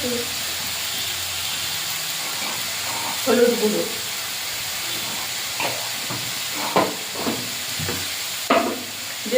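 Greens and potatoes frying in a pan with chili and turmeric powder, giving a steady close sizzle and hiss broken by brief clattering stirs every second or two, with no one talking.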